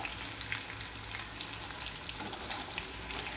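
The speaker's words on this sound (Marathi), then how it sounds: "बघू शकता आपलं पनीर कसं क्रंची फ्राय होतंय।" Continuous crackling sizzle of cornflour-coated paneer deep frying in hot oil, with scattered pops and spits over a steady hiss, close up.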